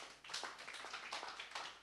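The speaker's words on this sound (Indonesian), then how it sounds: "Tepuk tangan bagi Tuhan Yesus." Short burst of scattered clapping from a church service congregation, fairly faint and distant, a brief patter of hands with no talking over it.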